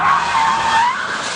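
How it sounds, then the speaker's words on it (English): A Rolls Royce car drifting, its tires skidding and squealing in a loud, continuous screech close by, with no other sounds. "you're buying a car that's luxurious and fast, and apparently pretty damn good at drifting too"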